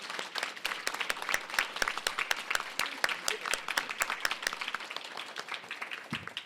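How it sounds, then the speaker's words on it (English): A conference audience applauds a panel steadily, many hands clapping in a dense, continuous patter for several seconds, fairly close and lively. "give a round of applause to our beautiful panelists"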